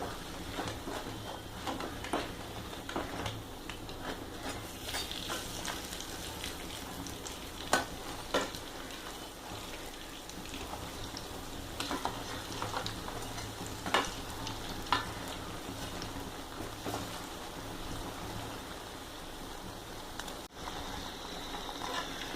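Uzhunnu vada, urad dal fritters, frying in hot oil with a steady, moderate sizzle throughout and occasional clicks and scrapes from turning them.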